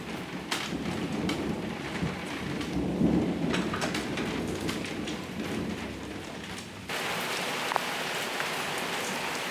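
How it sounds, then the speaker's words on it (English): A thunderstorm rumbles with low thunder over steady rain falling on a surface, with the rain growing louder and brighter toward the end; no talking. "You don't care about thunderstorms at all"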